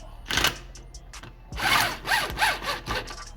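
Bolts on an anti-roll bar bush plate are spun in with a power tool in short bursts, a brief whir near the start and then a longer run of rising whines from about halfway through, close and fairly loud.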